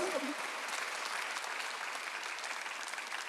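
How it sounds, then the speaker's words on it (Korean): Church congregation applauding during a Sunday worship service, a steady dense wash of clapping sustained for several seconds with no gaps. "박수 한번 주세요."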